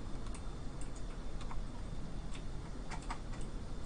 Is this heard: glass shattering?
no